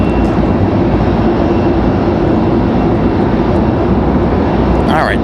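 A United airliner departing Raleigh-Durham airport roars as a broad, loud, constant rumble close by, with a voice talking over it.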